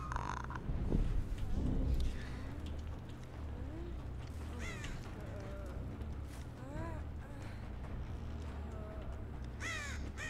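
Crows caw repeatedly in the video game Dead by Daylight, a run of rising harsh calls at moderate distance over a steady low ambient rumble, with a thump near the start.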